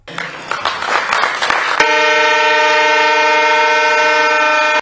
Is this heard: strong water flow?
no